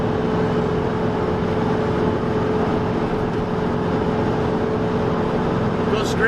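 A 1966 Ford F-250 truck with a 4-speed cruises steadily at 55 mph, a constant loud cab drone of engine and road noise with a steady tonal hum and no breaks.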